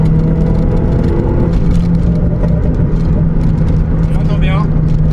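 The naturally aspirated engine of a manual Peugeot 206 RC revs high and strained with a whining drone, loud and continuous, as the car drives along.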